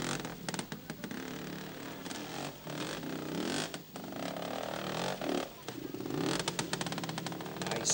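An Aussie motorcycle roars through a 1971 scramble, its engine note rising and falling as the rider works the throttle over rough ground. The sound is uneven and somewhat distant, and a commentator talks over it.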